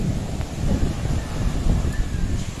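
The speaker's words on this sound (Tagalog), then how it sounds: "Ang lakas ng hangin." Strong wind by the sea roars and buffets the microphone in uneven gusts, with a low rumble like surf underneath and no talking.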